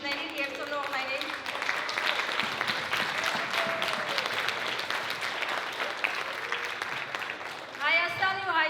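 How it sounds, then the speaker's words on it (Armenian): An audience applauds teachers and parents at a school event for second- to sixth-grade pupils, with steady sustained clapping filling the hall under faint voices, swelling briefly near the end. "Եկեք ծափահարենք նրանց ուսուցիչներին և ծնողներին։"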